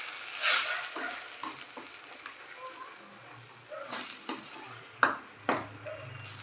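Cashew curry masala with red chilli powder stirred in hot oil, a soft continuous sizzle under scraping spoon strokes and a few sharp clinks of utensil against the pan, fairly quiet throughout.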